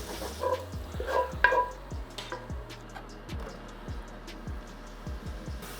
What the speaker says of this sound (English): in the same pan, we're gonna saute off the onions and garlic, let them kind of get going